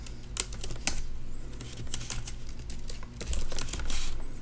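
Computer keyboard typing comes in quick, close bursts of sharp key clicks with short pauses between runs.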